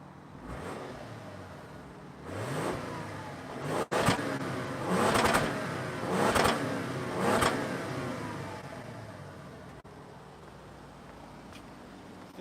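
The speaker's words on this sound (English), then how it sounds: "Oh, you want to hear the exhaust?" 2021 Lexus LS 500 luxury sedan exhaust while revving, several fairly quiet, subdued rev bursts in sequence heard from a short distance, with a faint steady idle between them and no speech.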